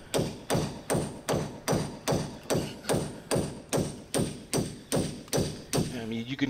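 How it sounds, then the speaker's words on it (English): Steady hammer blows on a chisel cutting a hole through brick for an outside faucet, about two strikes per second, sharp metallic clinks with solid thuds, close and loud. "make a hole in this brick, and I'm using a chisel"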